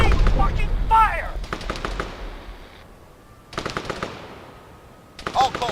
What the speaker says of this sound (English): The LDF, they're still shooting